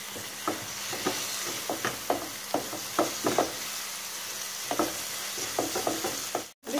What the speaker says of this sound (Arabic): ونحرك ونضلنا نحرك لحد ما لون الفراخ صدر الدجاج ياخذ لون الذهبي